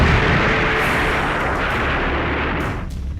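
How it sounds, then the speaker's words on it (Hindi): Firecrackers and stored gunpowder explode one after another in a powerful blast, a loud, dense, continuous roar of crackling bursts that barely lets up before fading slightly at the end. "किस तरह पटाखे और वहां रखे बारूद एक एक कर फट रहे हैं"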